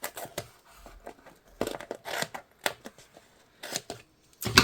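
An EVA foam sheet being cut for a children's party mask, with a series of irregular snipping and slicing strokes, close and fairly quiet, punctuated by brief pauses.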